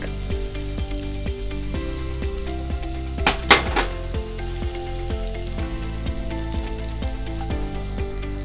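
Chopped garlic sautéing in butter in a hot pan, with a loud, steady frying hiss over continuous background music and a brief burst of louder sizzle midway.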